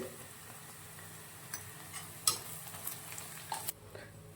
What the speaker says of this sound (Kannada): ಈರುಳ್ಳಿ ಚೆನ್ನಾಗಿ ಫ್ರೈ ಆಗಿದೆ ಇವಾಗ ಬಿಸಿಬೇಳೆಬಾತ್ ಪೌಡ್ರ್ ಹಾಕ್ತದೀನಿ